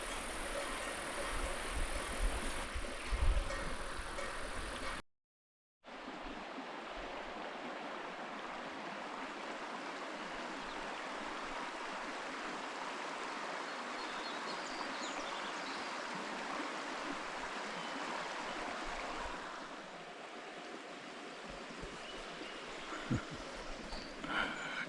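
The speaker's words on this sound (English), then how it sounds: "you can see the rain's coming down. Just a light shower with the sun." A steady, soft hiss of a light sunlit rain shower falling through foliage in the Sierra continues throughout, with a brief dropout near the start.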